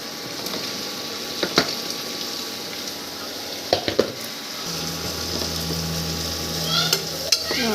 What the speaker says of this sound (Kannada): ಉಳ್ಳಿಗಡ್ಡೆನೂ ಹಾಕಿ ಇವನು ಸ್ವಲ್ಪ ಎಣ್ಣೆಗೆ ಹಿಂಗೆ ಹುರ್ಕೊಳ್ಳೋಣ